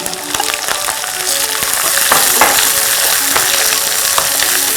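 Onions and green chillies frying in a pan give a loud, continuous sizzle close by, with occasional stirring scrapes and no voices.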